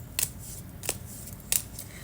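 Tarot cards being shuffled at close range, giving three short, crisp riffling bursts spaced apart over a quiet background, with no talking.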